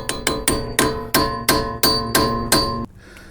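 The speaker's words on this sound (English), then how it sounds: "As you're turning, you go ahead, you tap the end of this screwdriver." A screwdriver end struck repeatedly with a hammer while loosening a screw during front brake pad and rotor work on an Acura MDX, nine sharp metallic taps at a steady pace, close and loud, with no talk.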